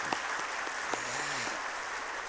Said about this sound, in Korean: 우리 뜨거운 박수로 한번 더 격려하십시다.